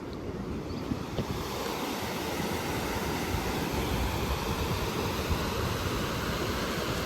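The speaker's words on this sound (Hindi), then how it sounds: "मैं आपको ना देखो ये दिखाता हूँ कि पानी की आवाज़ एकदम से कैसे आती है।" Rushing water roars steadily at an outdoor spot in India, a loud broadband wash like a stream or waterfall close by, mixed with some wind buffeting on the microphone and no talking.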